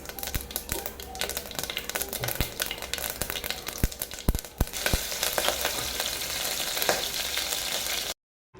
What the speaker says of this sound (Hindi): तो मैंने राई और जीरे का तड़का लगाया है